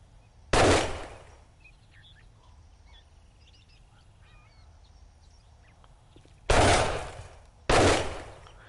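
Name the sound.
pistol gunfire in video game 7 Days to Die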